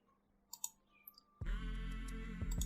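A couple of faint mouse clicks on a computer while a PowerPoint slide opens, followed by a sudden loud, steady burst of sound from the slide transition.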